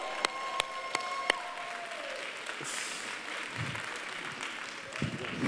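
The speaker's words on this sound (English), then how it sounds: "So once again, a round of applause to Charles Blow." Audience applause at a university distinguished speaker event in New Haven, a sustained wash of clapping from a large crowd, with a few louder claps near the start and some faint murmuring throughout.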